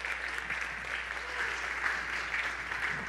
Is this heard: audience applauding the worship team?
yes